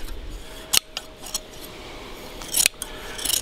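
Hand shears snip through sheep's wool during shearing, several sharp metallic clips at irregular intervals over a quiet background.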